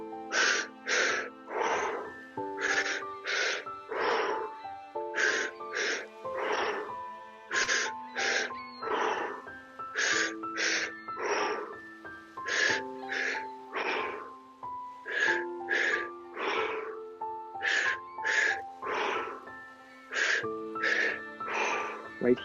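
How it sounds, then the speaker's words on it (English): Deep, deliberate breathing during a guided spirit-breath exercise, long steady cycles of forceful inhales and exhales repeating rhythmically and close up, with no talking over them. "Join me in 10 purposeful spirit breaths, allowing that creativity to just pour through this breathing as here we go."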